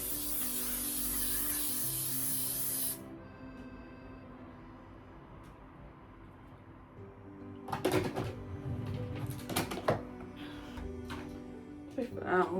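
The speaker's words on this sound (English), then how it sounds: "the L'Oreal Infallible 3-second setting mist" L'Oreal Infallible 3-second setting mist sprays in one close, steady hiss lasting about three seconds. Quieter handling follows, then scattered clicks and rustles under a speaking voice.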